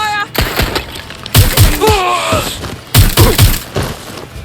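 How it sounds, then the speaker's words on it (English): Bursts of gunfire in the video game Watch Dogs: Legion crack out in rapid clusters alongside thuds and electronic warbling tones, loud and close, with a brief voice mixed in. "Gunfire!"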